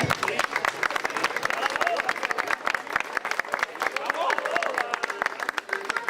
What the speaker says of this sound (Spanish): Aplaudiment.